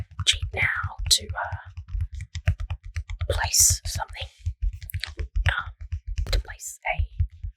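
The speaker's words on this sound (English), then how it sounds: "I'm just typing on the object cheat now" Soft keyboard typing on a computer while entering a Sims object cheat, quick irregular clicks running under close, quiet whispered speech throughout.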